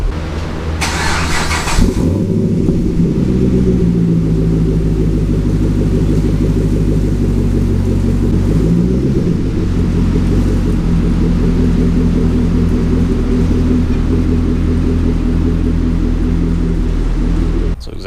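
A 2010 Chevrolet Camaro 2SS with a newly fitted exhaust starts up with a brief crank and then settles into a loud, deep, steady idle rumble. Small pitch shifts come through, and the idle continues close by for the rest of the clip.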